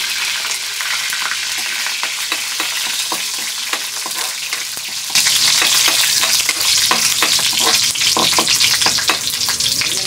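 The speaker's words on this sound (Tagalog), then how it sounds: "nagba-brown na yung ating ricados, talagyan natin ito ang ating sardinas" Aromatics sauté until brown in a hot pan, giving a dense, steady sizzle broken by frequent spatula scrapes from stirring; the frying grows noticeably louder partway through and carries on without speech.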